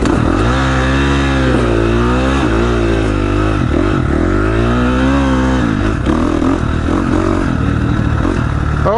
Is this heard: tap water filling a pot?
no